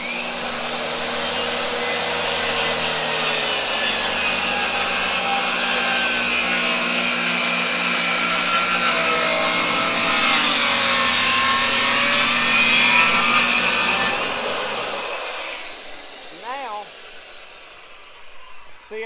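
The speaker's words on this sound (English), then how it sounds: "So, y'all want to hear the skill saw run?" A circular skill saw runs up and cuts through wood in a pottery shed addition build, a loud, sustained high-pitched whine for about fifteen seconds that stops abruptly, followed by quieter sounds of the saw winding down.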